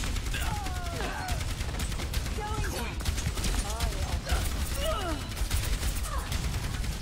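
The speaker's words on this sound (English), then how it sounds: "Stop shooting that." Rapid gunfire crackles continuously in the Overwatch video game, dense bursts with chirping electronic effects layered over a busy, loud mix while players talk over it.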